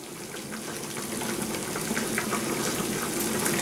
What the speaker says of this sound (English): Right, I'm going to stir it.